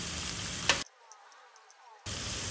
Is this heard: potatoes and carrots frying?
yes